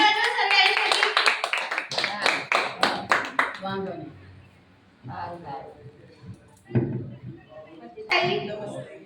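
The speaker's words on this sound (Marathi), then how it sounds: "टाळ्या वाजवा आईसाठी" An audience claps to welcome an elderly woman at a medical therapy centre event, a dense burst of applause for about four seconds. Speech and scattered sounds follow, with a few more brief claps.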